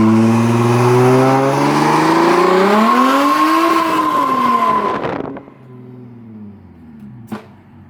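A car does a burnout in a Target parking lot, its engine roaring loud and close with a rising rev and squealing tires for about five seconds before dropping to a quieter idle, followed by a brief knock.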